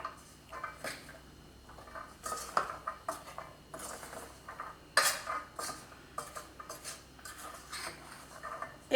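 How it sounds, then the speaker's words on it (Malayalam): A spoon mixing peanuts coated in spice powders in a dish, giving faint, close, irregular scraping and clinking strokes repeated throughout, with no talking. "ഞാനിപ്പോൾ ഒരു സ്പൂൺ വെച്ചിട്ടാണ് ഇതുപോലെ ഒന്ന് മിക്സ് ചെയ്ത് കൊടുക്കുന്നത്"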